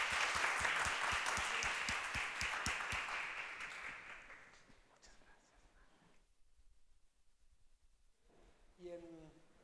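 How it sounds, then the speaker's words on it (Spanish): An audience at a conference session applauds a speaker, steady clapping that fades over several seconds into quiet room tone, with a voice speaking briefly at the end. "les pido que le brindemos un aplauso, por favor"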